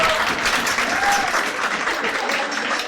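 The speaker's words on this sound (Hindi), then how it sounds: "ताली बजा दो पहले।" A room full of people claps at an internship guidance session, producing a loud, sustained wash of applause that holds steady throughout, with faint voices blending into the crowd noise.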